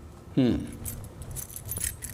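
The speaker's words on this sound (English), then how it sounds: "In my pocket, I have my keys." Keys jangle in a pocket, a short bright metallic rattle bursting in loudly near the start, then softer jingling and rustle trailing off, with a voice briefly heard.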